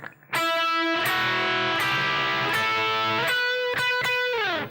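Electric guitar plays the closing phrase of a song intro, a run of sustained, ringing notes struck in clear succession with a final bend at the end, heard alone and up close.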